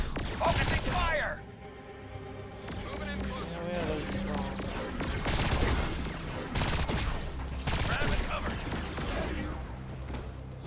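Rapid gunfire and explosions in the action video game Agents of Mayhem, dense bursts of shots over combat noise, with characters talking throughout.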